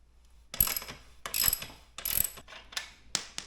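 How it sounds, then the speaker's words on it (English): A rear axle is being worked loose from a Honda Grom motorcycle wheel, making close, sharp metallic ratcheting clicks in four or five short bursts with quiet gaps between, and no voices. "first thing we're gonna do is we're gonna start with removing this rear axle"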